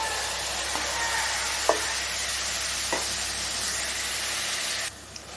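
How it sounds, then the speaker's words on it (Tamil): Tomatoes sauté in a pan with a steady, close sizzle, broken by three faint spatula taps as they are stirred, and the frying drops quieter just before the end. "தக்காளி வந்து கொஞ்சம் வதங்கி வரட்டும்"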